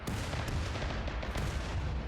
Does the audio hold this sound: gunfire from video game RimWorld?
yes